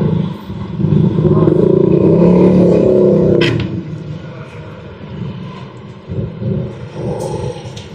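A diesel owner-type jeep built as a Wrangler in Imus, Cavite, with a turbocharged Mitsubishi 4D56 engine and power steering, runs with a loud, steady rumble that eases to a quieter idle partway through.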